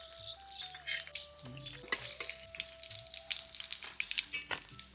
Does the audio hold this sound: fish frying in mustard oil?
yes